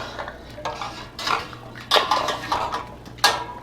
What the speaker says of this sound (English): After the 10-minute rest time, we're going to take our jars out of the canner.